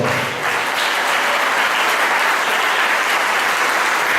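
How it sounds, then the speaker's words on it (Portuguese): A church congregation applauds in praise during a Portuguese-language sermon, a dense, steady wash of many hands clapping throughout, loud and close, with no voices rising above it. "Quem compreendeu, aplaude ao Senhor"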